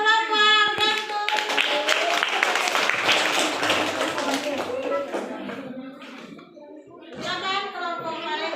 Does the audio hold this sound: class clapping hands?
yes